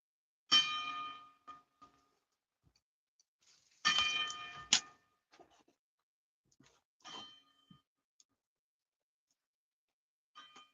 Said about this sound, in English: a 10-bell salute